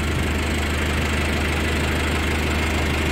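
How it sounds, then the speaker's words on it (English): A grain auger set up in a farm yard, ready to carry grain from a wagon into a storage bin, runs with a steady, loud mechanical drone and hum throughout, with no talk. "This is the auger Scott was setting up."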